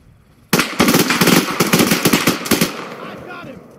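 Sustained automatic gunfire in an Arma 3 AI battle, erupting suddenly into a loud, close, rapid stream of shots for about two seconds before tapering off.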